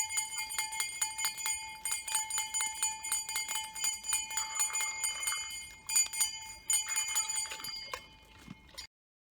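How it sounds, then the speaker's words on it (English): A hand bell rings repeatedly in a zoo paddock to call seven Red River hogs over for a reward, the bright metallic peals steady and close for most of the stretch before stopping abruptly. "we've got the bell ringing and the hogs responding from the other side of the paddock"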